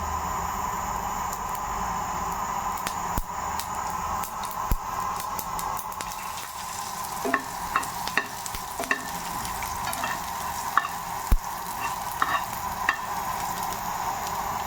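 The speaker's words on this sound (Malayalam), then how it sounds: "ഒരു പാൻ വെച്ച് അതിലേക്ക് അല്പം വെളിച്ചെണ്ണ ഒഴിക്കുന്നുണ്ട്. അതിലേക്ക് കടുക് ആഡ് ചെയ്യുക." Mustard seeds splutter in hot coconut oil in a pan while tempering a white chickpea curry, a steady close sizzle with scattered sharp pops growing more frequent toward the end, with no talking.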